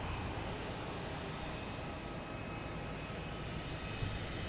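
An airliner inbound from London Heathrow descends toward landing at Boston Logan, its engines a faint, steady, distant rumble under broad wind-like noise.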